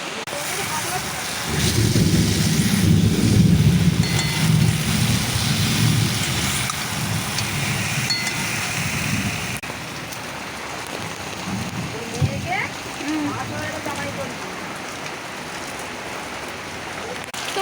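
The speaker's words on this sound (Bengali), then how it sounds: "আজকে দেখো কাজ করতে করতে বৃষ্টি হচ্ছে" Rain falls steadily outdoors near a home, a constant close hiss of drops on surfaces that swells loudest early on, then settles into a softer patter with a few sharper knocks.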